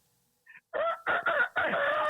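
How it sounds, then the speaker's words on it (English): A rooster crows in a few separated bursts, fairly close and clear against an otherwise quiet background, with no talking over it. "so I know the sounds of a rooster very well"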